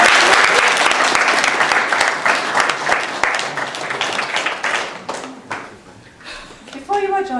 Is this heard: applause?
yes